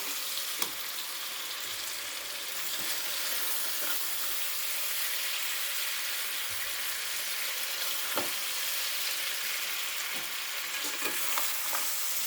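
Pieces of bottle gourd and fish sizzle in a pan as they are stirred, a steady close frying hiss broken by soft scrapes and clicks of a utensil; no speech.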